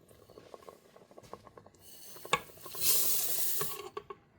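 Rice being stirred in a pot for Puerto Rican arroz con gandules, a spoon clicking and scraping in an irregular rhythm, then a wetter swishing rush of grains and liquid near the end, close up with no talking.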